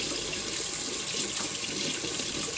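A kitchen tap runs steadily, water pouring into a sink as a constant bright hiss and splash, close and even for a few seconds with no voices.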